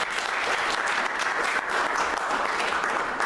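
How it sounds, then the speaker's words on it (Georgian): An audience at a poetry afternoon claps in a full, continuous round of applause, with dense overlapping hand claps that stay loud and even from start to finish. "აპლოდისმენტები."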